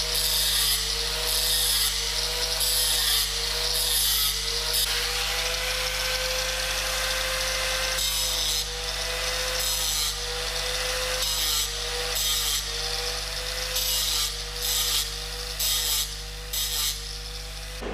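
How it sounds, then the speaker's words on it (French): A fine grinding wheel bevels a weld bead on steel for a flat butt joint, giving a steady high-pitched abrasive whine with a constant motor hum and repeated short grinding passes, loud and continuous throughout. "On utilise une meule fine pour les tailler en biseau et permettre une parfaite liaison avec le cordon"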